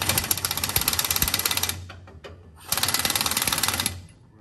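A pneumatic impact wrench hammers loudly on a rear axle pinion nut, crushing the crush sleeve during a rear end rebuild; two long rattling bursts of roughly a second and a half each, separated by a brief quieter gap, close-up in a shop.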